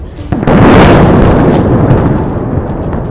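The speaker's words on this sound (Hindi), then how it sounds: "इजरायली हमलों के बाद बेरूत के आसमान में तेज धमाके सुनाई दिए" Loud explosion from Israeli airstrikes on Beirut, a sharp onset followed by a heavy, sustained roaring rumble that slowly fades over a few seconds, with no voices.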